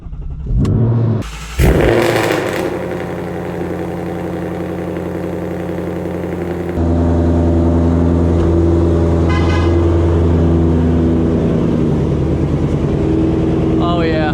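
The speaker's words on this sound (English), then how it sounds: "We're gonna move the Mach 1 to the lift side here because it's gonna make our life a lot easier" Ford Mustang Mach 1 engine idling and revving as the car is driven in a shop, a loud steady rumble that swells midway, with a brief horn-like tone early and people talking.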